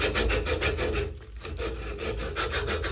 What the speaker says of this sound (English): It's like an 80 grit sandpaper. And just work the old finish off.